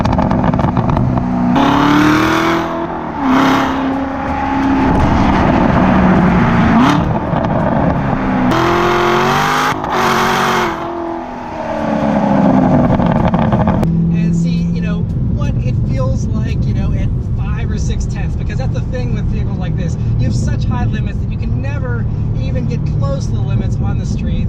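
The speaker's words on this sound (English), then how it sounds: "this is just those crackles and pops from that exhaust" A Ford Mustang GT's exhaust revs loudly, then crackles and pops in quick irregular bursts as the engine note falls away. A voice talks over it.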